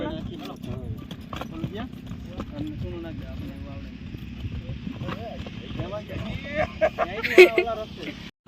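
A mare's hooves clip-clop in a steady run of sharp knocks, close and moderately loud, with people talking over them and louder knocks near the end.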